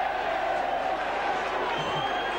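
A partisan rugby league crowd at St Helens versus Castleford roars and murmurs from the stands, a steady loud wash of many voices reacting throughout.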